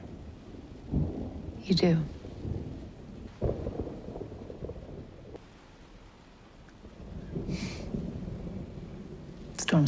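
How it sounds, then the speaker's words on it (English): A thunderstorm with heavy rain, low rolling thunder rumbling in several swells across the span, with a brief spoken line over the steady downpour. "Storms always frighten me."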